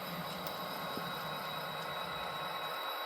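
A model train locomotive on a model railroad rolls along with a steady mechanical hum and faint rail clicks as it slows toward a stop, fairly quiet and continuous.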